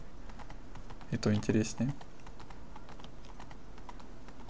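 Horse hooves clop in a quick, rhythmic burst while riding in The Witcher 3: Blood and Wine, a short gallop of loud thuds in the middle, with someone talking over the game's ambience.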